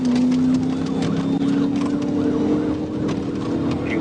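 A police car siren wails during a high-speed pursuit, its rising and falling tone running continuously over steady road and engine noise.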